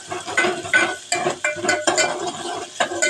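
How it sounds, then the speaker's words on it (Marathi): Finely chopped onion stirred in coconut oil in a pan over low gas, a utensil scraping and clinking against the pan in repeated close, loud strokes with a soft sizzle beneath. "बारीक चिरलेला कांदा, गॅस बारीक करा आणि ढवळायचं चांगलं त्याला."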